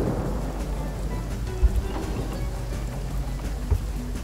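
Steady rain falls in Divinity: Original Sin with a soft, continuous wash of noise, punctuated by a couple of faint low thumps.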